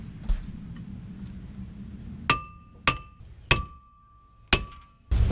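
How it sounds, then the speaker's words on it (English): An old Toyota Corolla front brake rotor is tapped with a hammer to knock it loose: five sharp metallic strikes spaced about a second apart, each ringing briefly, close and loud over a quiet background. "The next thing I've got to do is get this old rotor off. The easiest way to do it is to tap it."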